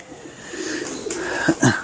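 A three-year-old female pigeon sitting on eggs gives a few soft, low coos near the end, following a quiet stretch with faint background noise.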